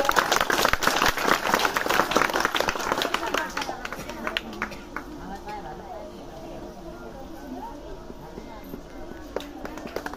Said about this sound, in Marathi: पटकन टाळ्या वाजवा जरा